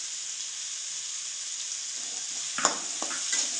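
Chopped potato, onion and beans sauté in a hot pan for wheat-flour veg fried momos, giving a continuous soft sizzle, with a few brief stirring scrapes near the end.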